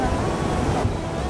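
Large surf waves at the sea, a steady broadband wash and rumble with wind buffeting the microphone throughout.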